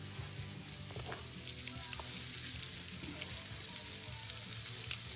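A grilled cheese sandwich crisps in a hot pan of mostly butter with a little vegetable oil, giving a steady, close sizzle with faint crackles and no talking.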